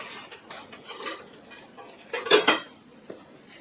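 A plated metal punch ladle is handled among other metal pieces, giving a few light scrapes and then a brief cluster of bright clinks and rattles, close and fairly soft.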